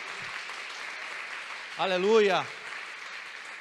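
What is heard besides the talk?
congregation applauding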